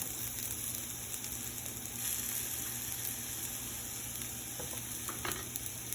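Potatoes frying in oil in a pan, a steady close sizzle and crackle running without pause, with a few faint scrapes from stirring near the end.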